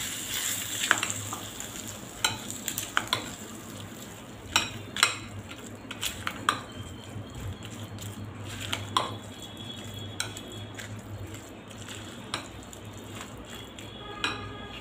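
Spoon scraping and clinking against a pot while hot tempering is stirred into curd rice, soft sizzle underneath and irregular metallic taps scattered throughout, close and fairly quiet.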